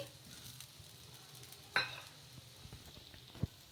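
A soft, steady sizzle of a green gram dosa crepe cooking in a little oil on a pan, with a brief louder hiss and a couple of light taps from utensils.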